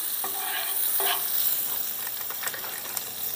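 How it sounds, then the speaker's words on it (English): Real butter sizzles on a hot pancake grill, a steady close frying hiss with a few soft scraping touches, no voices. "the grill is hot. Put a little butter on here"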